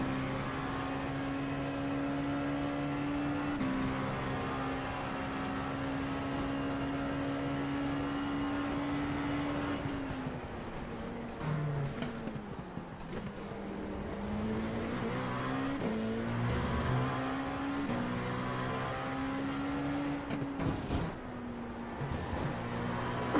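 An LMP2 prototype race car at Virginia International Raceway, heard from inside the cockpit, roars through its gears in long rising and dropping engine tones, with downshifts and a brief tire squeal as it runs at speed.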